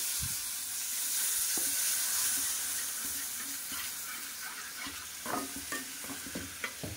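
Strong hissing sizzle as milk is added to a frying pan with spices, gradually settling, with occasional spoon scrapes and stirring taps toward the end.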